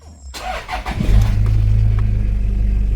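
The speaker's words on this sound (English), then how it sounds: "So now to test the handbrake, what we'll do is we'll start the vehicle." A Toyota Prado engine cranks briefly and catches, then settles into a steady low idle hum with regular pulsing, close and loud, no talk.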